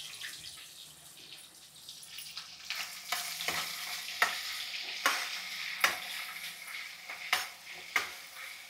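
Onions and curry leaves frying in a pan, a steady broadband sizzle with repeated sharp scraping strokes of stirring that grow louder toward the end, close and alone with no talk.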